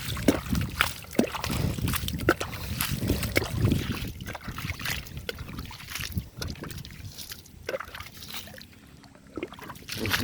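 Chili plants, both bird's eye and curly chilies, are watered, with water splashing and trickling steadily onto soil and leaves nearby, continuous with some sloshing bursts.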